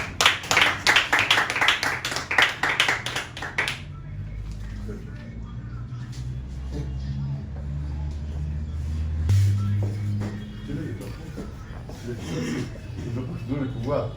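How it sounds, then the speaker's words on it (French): Audience applause at a political party membership ceremony: a short burst of brisk, fairly close clapping from a group at the start, then a low murmuring background of shuffling and voices. "Vous applaudissez."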